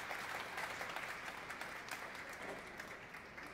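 Audience applause after a concert with a band in an atrium, dense steady clapping from a full room throughout, with no voices over it.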